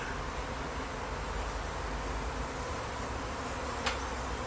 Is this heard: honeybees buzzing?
yes